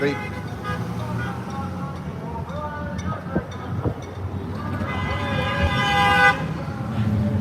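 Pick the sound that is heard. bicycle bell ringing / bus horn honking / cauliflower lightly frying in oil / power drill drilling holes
bus horn honking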